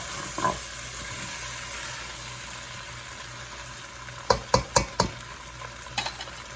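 Moghrabieh, the Lebanese couscous, fries in oil with a soft continuous sizzle, then a quick run of four sharp spoon knocks against the pot and one more clack near the end.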